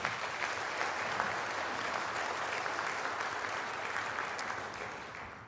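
A school-system audience gives a dense, sustained round of applause at a Wake County public schools address, a broad even wash of many hands clapping that holds steady and tapers slightly at the end.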